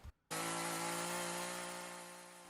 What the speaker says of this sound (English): I next use the chainsaw to round over some of the edges here.